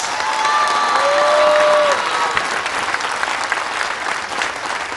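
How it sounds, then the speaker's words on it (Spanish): A large crowd applauds the armed forces at a political address in Mexico, a dense, steady wash of clapping that holds for several seconds, loud and sustained, with faint whistle-like tones over it early on. "un aplauso a las Fuerzas Armadas."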